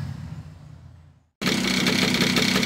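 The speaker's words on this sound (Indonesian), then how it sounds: "Itu ada suara klitik-klitik berasal dari ring shakernya ya" A motorcycle engine idles with a steady, busy rattling clatter from the clutch shaker after a brief silence, close and fairly loud.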